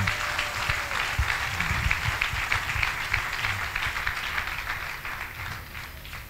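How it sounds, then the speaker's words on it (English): A church congregation at a live broadcast in Lagos applauds its leadership, a steady wash of clapping at moderate level that holds for several seconds and slowly thins toward the end. "the leadership of the church deserves a great round of applause"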